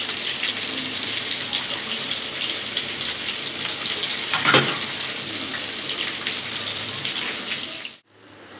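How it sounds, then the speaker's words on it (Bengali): Rohu fish pieces frying lightly in hot oil, a steady broad sizzle and crackle that runs close and even for several seconds, with one brief louder spatter midway before it cuts off abruptly near the end. "মাছটা হালকা করে ভেজে নেব"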